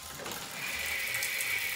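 A Tushy bidet sprays water in a bathroom stall, a steady hissing jet that builds and then holds constant for nearly two seconds, close and fairly loud.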